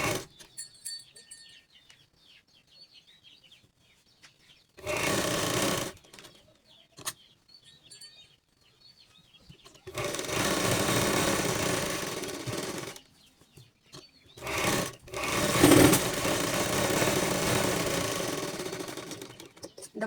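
A sewing machine stitches a princess-cut blouse in intermittent bursts, a short run near five seconds and longer runs later, separated by quiet handling sounds.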